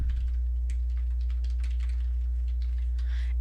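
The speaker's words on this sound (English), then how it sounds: "I can type any text that I want" Rapid, light clicking of keys on a computer keyboard as text is typed into an online document, close and fairly quiet over a steady low hum.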